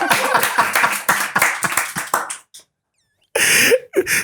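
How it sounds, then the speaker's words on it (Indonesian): Studio audience at an Indonesian talk show clapping in a close, brisk burst of claps that stops abruptly, then after a short silence a second loud burst of clapping and cheering. "Kita kasih tepuk tangan buat bintang tamu kita yang luar biasa, Mas Teguh."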